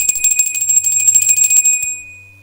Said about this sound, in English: And as always, Hakeem, we are going to ring the bell.